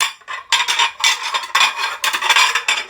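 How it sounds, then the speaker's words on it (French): Plates, glasses and cutlery clatter and scrape in a series of bursts of kitchen dishware being handled, fairly close and loud, with brief pauses between clusters and no talk. "tu fais plus de bruit que moi avec la vaisselle"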